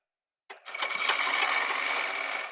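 Sewing machine stitching a kurti, starting abruptly after a moment of silence and then running as a steady, close, loud whir with a fast mechanical rattle.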